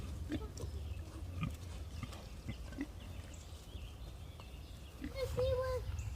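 Pigs grunting in a farm pen at feeding time, short low grunts scattered through the clip with a louder cluster near the end over steady outdoor background noise.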